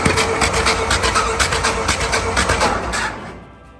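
A 1929 Ford Model A engine with one dead cylinder runs loud and close in a rapid, uneven pulsing chug for about three seconds, then cuts off abruptly.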